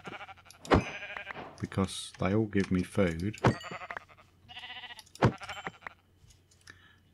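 Sheep bleat in a video game, several wavering calls across the middle and late stretch, while someone talks over them.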